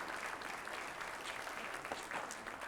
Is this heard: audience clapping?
yes